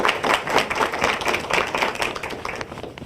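Audience at an educators' conference clapping after a talk, a brief burst of close, uneven hand claps that fades toward the end.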